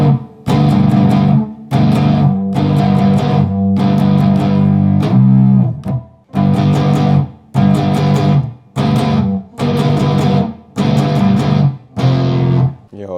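Heavily distorted metalcore electric guitar chords through an amp plugin, strummed in short, loud bursts, about eight stabs separated by brief silences, with no talking.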